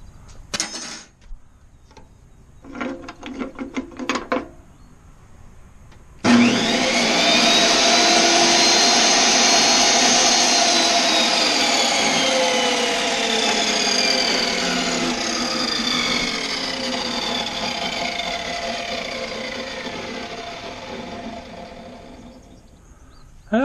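A table saw with a cross cut sled starts up with a loud whir, its blade raised high, after some scattered knocks and handling clatter. The blade hums steadily near at hand for the rest of the clip, slowly easing a little in level.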